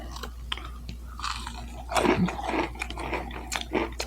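Someone bites into crispy garlic parmesan Wingstop boneless chicken nuggets, giving close, loud crunches and chewing in a few quick bursts over a quiet low hum.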